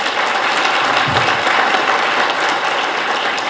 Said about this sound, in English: So at least give them a round of applause real quick